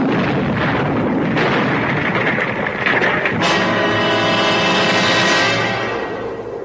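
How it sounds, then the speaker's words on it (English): A loud explosion effect from an old-time radio mystery drama, a sudden crashing blast that swells into a sustained roar and rumble filling the whole clip, with no voices. "there was a flash of light and a loud explosion."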